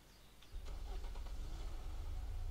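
A car engine in the survival game Unturned, out of fuel yet still moving, kicks in and settles into a steady mid-pitched running hum, fairly quiet and unbroken, with no voices.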